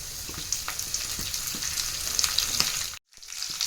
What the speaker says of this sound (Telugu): ఆయిల్ వేడయ్యాక దాంట్లోకి మనం కొంచెం జీలకర్ర వేసుకోవాలి, దాంతోపాటు కొన్ని ఆవాలు కూడా వేసుకోవాలి